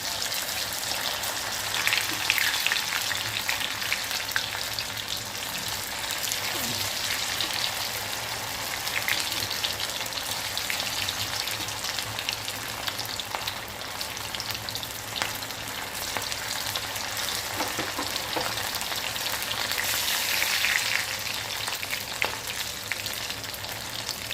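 Sago (javvarisi) pakoda frying in hot oil, a steady close sizzle and crackle of bubbling oil that runs evenly throughout with no voices.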